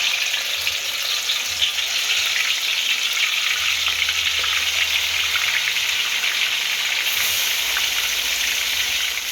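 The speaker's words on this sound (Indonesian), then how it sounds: "Oke, minyak kita udah cukup panas. Kita goreng ayamnya dulu." Chicken pieces fry in hot oil for ayam masak merah, giving a loud, dense, continuous sizzle and crackle throughout with no talking, and a low rumble underneath.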